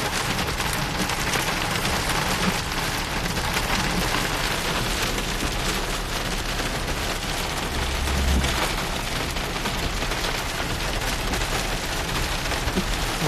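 Hail pelts a car during a thunderstorm near Stockton, California, a dense unbroken hiss of rapid impacts drumming on the roof and glass throughout, loud and even, with a faint low thud near the end.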